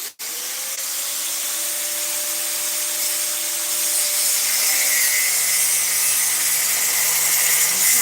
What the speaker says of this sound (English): now we're gonna cut this down pipe because we don't need it right now